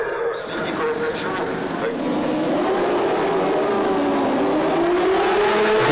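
Superbike racing motorcycles pulling away together at a race start at the Magny-Cours circuit in France, a dense, sustained roar of many engines climbing in pitch, steady and loud throughout with a commentator's voice over it.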